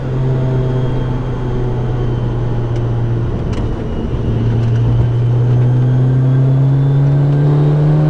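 Steady, loud, droning engine hum from a Kraftwerks-supercharged Honda S2000 CR, a 2,800-pound car, heard from inside while driving, holding one tone and rising slightly in pitch as it pulls.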